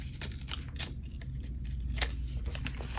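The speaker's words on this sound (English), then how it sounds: "let me tear out a couple of the stars" Paper stars being torn out of a sheet for a travel journal, a few short rips and crinkles at close range over a low steady background hum, with no talking.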